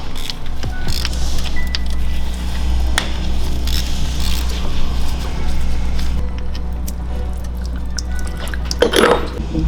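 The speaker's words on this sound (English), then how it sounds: "We're going to take our T50 and take the drain plug off" Metallic clicks and a jangle as a T50 Torx tool loosens the oil drain plug on a McLaren 720S, followed by a trickle of liquid, all under a steady low hum, close up.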